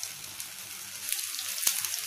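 Sliced shallot rounds dropped into hot coconut oil for a Kerala fish curry, bursting into a soft, steady sizzle with a few sharp crackles, close by and with no talk.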